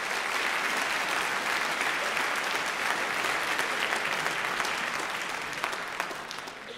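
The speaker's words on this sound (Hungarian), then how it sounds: "Most jár nekik a taps." A crowd applauds for a pair of Latin ballroom dancers, a dense sustained clapping that holds steady and fades slightly near the end.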